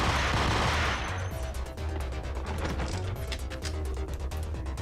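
Gunfire in the action game Max Payne: a sustained burst of rapid automatic shots crackles densely over a low rumble, closely spaced and loud from start to finish.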